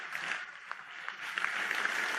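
A dense, steady wash of applause and cheering fills the hall from an audience at the 80th French Socialist Congress, sustained throughout with scattered louder claps.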